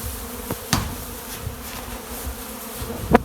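Honeybees buzzing around their hives in autumn, a steady low drone of wings with a few louder passes close by and a sharp buzz near the end.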